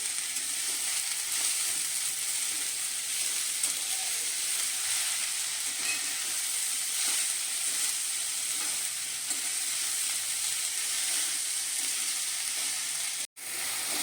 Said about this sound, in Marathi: कांद्याची पात आपली व्यवस्थित आता परतून झालेली आहे